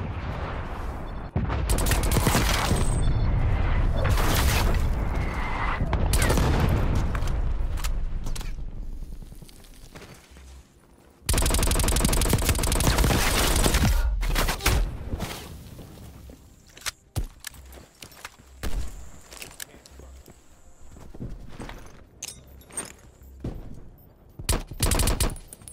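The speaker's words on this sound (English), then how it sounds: "Artillery inbound." Artillery strike in Call of Duty Cold War, a dense barrage of loud booms and rapid gunfire that later thins into scattered shots and footsteps.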